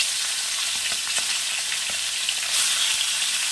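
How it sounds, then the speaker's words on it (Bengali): Magur catfish frying in oil for a Bengali fish curry gives a steady, close sizzle and crackle with occasional small pops, swelling slightly louder near the end. "এই মাছটাকে ভেজে নিয়ে ফিরে আসছি।"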